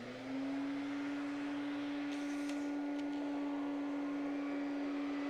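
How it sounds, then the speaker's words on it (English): A vintage vacuum cleaner motor starts up and settles into a loud, steady drone close by, with a brief higher whine partway through. "We will vacuum with this."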